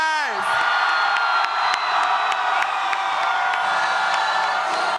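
A large, loud crowd of supporters cheers, whoops and yells continuously for Senator Bernie Sanders as he takes the stage at a Utah rally before the Super Tuesday primary, a dense steady roar with no pauses.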